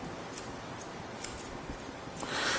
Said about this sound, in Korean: 가위가 한 번에 들어가서 싹 뚝 잘라냅니다